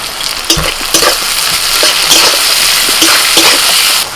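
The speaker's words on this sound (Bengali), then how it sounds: "পেঁয়াজ দিয়ে দিচ্ছি পেঁয়াজের মধ্যে একটু নুন দিয়ে দিচ্ছি" Onions with a pinch of salt fry in a pan for a country rooster curry, giving a steady, close hiss and crackle with occasional stirring scrapes throughout.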